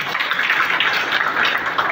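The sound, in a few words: applause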